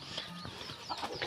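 A rooster on a farm gives soft, low clucks, close by, over a breathy, noisy background in a short burst.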